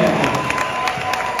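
Spectators at an amateur boxing event in an Austin recreation center applaud and cheer in a steady, fairly loud crowd wash, with regular sharper claps standing out.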